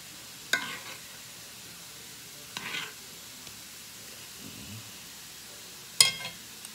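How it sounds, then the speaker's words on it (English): A spatula scrapes a frying pan of southern fried yellow squash with turkey slices and gravy: a few short, separated scrapes over a faint, quiet background sizzle. "just continue scraping your pan with the squash in it"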